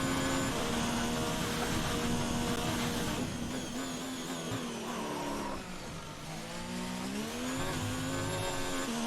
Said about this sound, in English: Hear the weird noises of the engine as it's telling us the car is getting down there in its wear